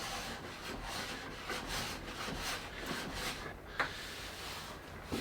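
A hand plane strokes along a wooden guitar neck blank, giving steady rubbing, shaving passes close by with a sharper scrape near the end, and no talk.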